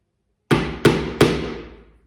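A hammer drives a tack to fix canvas onto wooden stretcher bars: three sharp, close blows in quick succession, each ringing out briefly before the next, with no talking.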